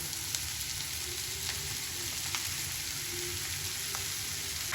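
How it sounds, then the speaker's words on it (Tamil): Beetroot sautéing in hot oil with moong dal, a continuous even sizzle close by with a few faint stirring ticks and no voices. "பீட்ரூட் போட்டு நல்லா வதக்கி விட்டுக்கோங்க."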